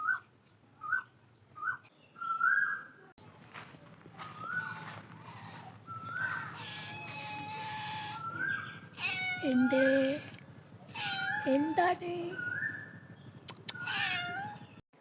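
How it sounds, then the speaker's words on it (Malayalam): A cat meows repeatedly in a yard, short rising cries at first, then longer drawn-out wails, fairly close and clear over light background noise, with a person briefly speaking. "ഒരു പൂച്ച ഇവിടെ ഇങ്ങനെ നിൽക്കുന്നത് കണ്ട്"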